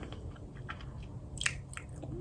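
Gum chewed close to the mouth: soft, wet smacks and clicks in an irregular rhythm, faint against a low background hum, with one sharper snap near the middle.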